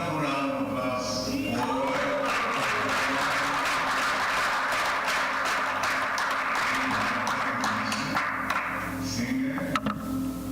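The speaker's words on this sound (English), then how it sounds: "Another wonderful round of applause." A temple audience at a Sunday love feast applauds steadily, a dense continuous clatter of many hands that fills the whole stretch at even loudness.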